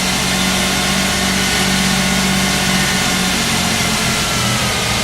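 The engine of a 1992 Ford Explorer runs deliberately rich with the gas pedal held down. It gives a loud, steady, close roar with a low rumble and a broad hiss, holding constant throughout with no voices.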